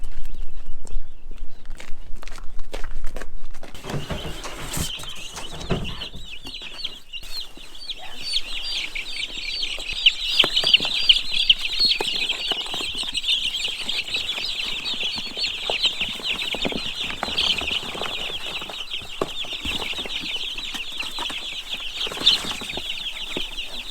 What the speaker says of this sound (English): So I'm going to take the chicks and I'm going to put them in the box